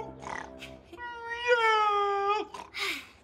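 A voice imitating a big ghostly cat gives a drawn-out, wavering meow, preceded by shorter vocal sounds and followed by a brief rising cry, close and clear.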